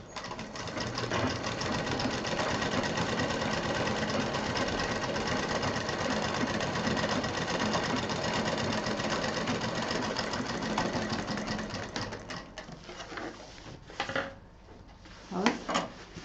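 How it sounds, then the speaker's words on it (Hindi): A sewing machine stitches a strap across the width of a fabric sling bag, running as a fast close mechanical whir for about twelve seconds, then stopping, followed by a few fabric rustles and handling clicks. "इसको सिंपल इसके ऊपर रख के चौड़ाई से सिल देना है"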